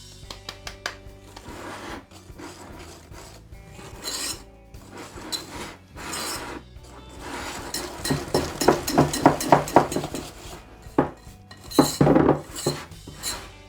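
Apple cake batter being stirred with flour in a bowl, a close scraping and clinking of a utensil against the bowl, steady at first and growing more vigorous toward the end, with no talking.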